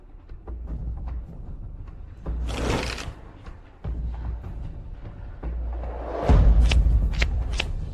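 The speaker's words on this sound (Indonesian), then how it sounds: "Kocok kartunya." Playing cards are shuffled up close in repeated riffling bursts, with a louder, brisker riffle and bridge at the end, no talking.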